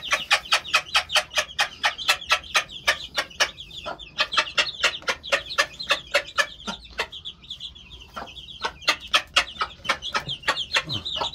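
Rapid, rhythmic clucking and chirping from a mother hen and her chicks, close by, with dense bursts of short calls continuing steadily throughout.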